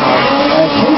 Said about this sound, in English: Cody Black up on the point now, on the Polaris number 189 as they make the turn to head down the hill for the final time